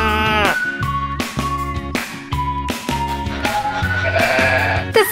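A sheep bleats loudly and close in a few drawn-out, wavering calls over a steady musical backing.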